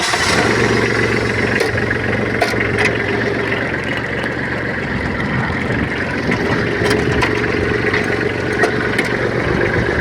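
A Kubota B2741S tractor engine runs in medium third gear while tilling a grassy field, a steady droning deep rumble with clattering overtones, constant pace and no pauses throughout.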